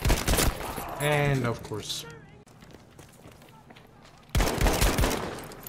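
Battlefield 5 gunfire in team deathmatch: loud bursts of shots at the start and end with a lull between, under excited player talk.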